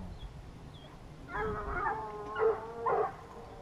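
A pack of Gascon hunting hounds at a wild boar pack-trial in Auxonne gives voice in drawn-out baying bursts, three or four rising cries a little way off, with no talk over them.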